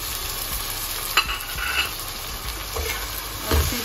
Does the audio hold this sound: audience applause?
no